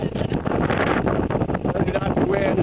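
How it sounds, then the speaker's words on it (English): Strong 30-knot wind roars over the microphone aboard a sailboat with reefed sail on an ocean passage toward Hawaii, a steady loud rush with gusty buffeting throughout. "Now we got 30 knots of wind."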